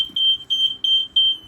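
A carbon monoxide alarm emits loud, piercing high-pitched beeps in a steady repeating pattern, roughly four pulses with short gaps, sounding alone over faint room hum.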